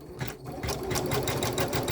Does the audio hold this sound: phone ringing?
no